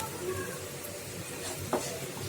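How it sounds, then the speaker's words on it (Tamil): Onions and curry leaves sautéing in a pan for a carrot and beetroot stir-fry, a steady soft sizzle with a brief stirring scrape near the end. "வெங்காயம் பச்சை ஸ்மெல் போகிற வரைக்கும் வதங்கணும்"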